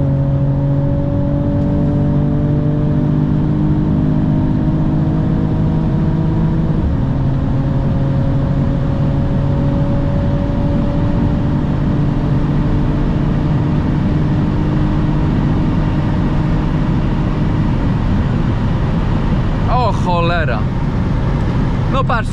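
A 2023 Mercedes-AMG E53 Coupé runs flat out at about 200–250 km/h, a loud steady engine drone under heavy road and wind roar, its pitch stepping down at two gear changes.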